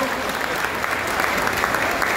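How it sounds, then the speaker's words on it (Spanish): Lively crowd applause honours a couple marking seven years of marriage at a tribute concert in Lima, Peru, a short, dense burst of clapping with a murmur of voices beneath it. "Fuerte la aplauso para ellos que están celebrando siete años de matrimonio"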